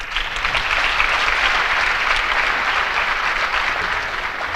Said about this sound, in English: giving the Premier of the Northern Cape a round of applause